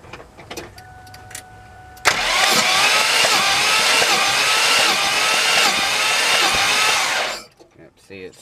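Close, loud engine cranking on a motor with a blown head gasket at cylinder 5: about five seconds of continuous rapid starter churning that cuts off abruptly, with a few small clicks before and after.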